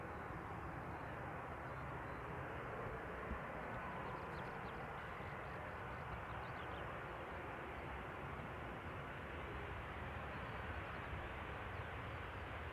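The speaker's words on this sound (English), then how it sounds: "First we will see Corendon Airlines flight 3595 Boeing 737-800 arriving from Izmir in Turkey." A Corendon Airlines Boeing 737-800 arriving at Amsterdam Schiphol on runway 18R gives a steady, broad engine roar that holds evenly throughout at moderate distance, with no talk over it.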